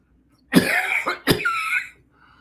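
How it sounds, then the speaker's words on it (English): A person coughs twice in quick succession, close and loud, each burst harsh and rasping, with a short hoarse tail after the second cough before it goes quiet. "After cough."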